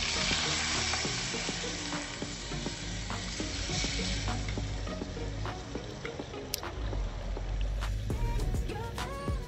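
Chicken browning in a pan, sizzling steadily and loudly with frequent scraping and clinking as it is stirred throughout, close up.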